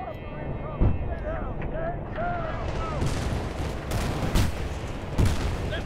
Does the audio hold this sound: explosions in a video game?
yes